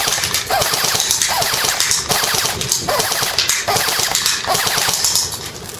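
An A&K ACR Masada airsoft rifle fires full-auto bursts at an outdoor range target, a dense rapid clatter of shots in several strings with brief pauses between them, close and loud, with no talking.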